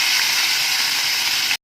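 Chicken pieces frying in hot oil, a steady, dense broadband hiss and crackle that runs loud and unbroken before cutting off abruptly.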